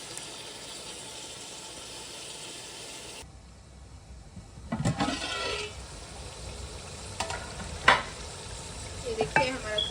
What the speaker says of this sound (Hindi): अब इसको मैं थोड़ी देर के लिए, कुछ मिनट्स के लिए अच्छी तरीके से भूनूंगी प्याज के साथ